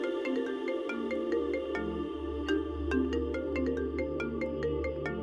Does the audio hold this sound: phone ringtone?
yes